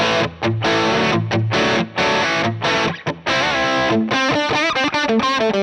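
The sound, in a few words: distorted guitar through Line 6 Helix, R121 mic, Greenback cab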